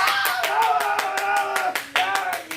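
A church congregation claps along in a steady, fast rhythm while singing together, loud and close, with voices carrying through the claps.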